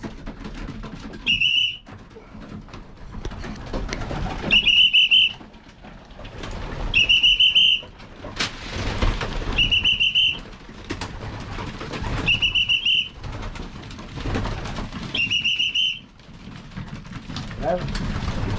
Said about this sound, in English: they know when I blow that whistle it's time to come in